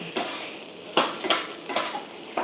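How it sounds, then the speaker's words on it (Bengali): Mixed winter vegetables being stirred with spices in a pan, a few distinct scraping strokes of a spoon against the pan over a soft sizzle, close and fairly quiet. "এইবারে আমি সব সবজিগুলোর সঙ্গে মশলাটাকে ভালো করে মিক্স করে নেব"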